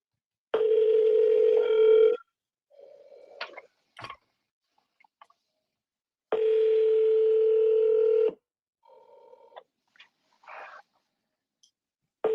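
A telephone call connects: two long, loud ringback tones separated by short dialing beeps and clicks, with no voices, before the line goes to voicemail.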